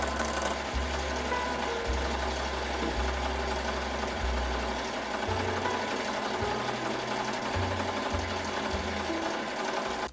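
Embroidery machine stitching a sequin hoodie design, its motor running a steady, loud mechanical hum that shifts pitch in stepped bursts every second or so as the needle moves between sections, continuous for the whole stretch.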